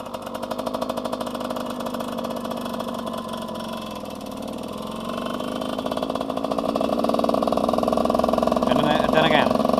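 A motorcycle engine pulls away in first gear as the clutch is slowly released, a steady mid-pitched drone that swells in loudness and revs higher toward the end, close and continuous.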